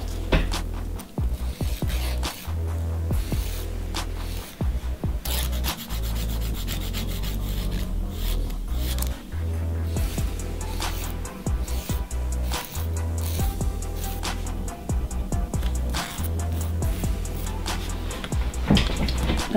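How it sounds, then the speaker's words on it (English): A 180 grit nail file rasps back and forth while refining a nail's shape, in quick, steady, close strokes that continue throughout over faint background music. "Just going to refine the shape with the 180 grit file."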